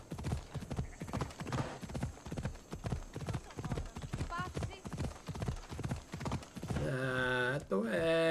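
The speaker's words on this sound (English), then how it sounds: "This horse is out of control!" Horse hooves gallop at a fast, steady clip-clop in Assassin's Creed Odyssey, loud and continuous under a speaking voice, followed near the end by a sustained game tone.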